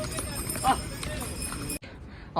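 Horses walking on a path, their hooves giving a rhythmic clip-clop close by with voices mixed in. The sound cuts off briefly near the end.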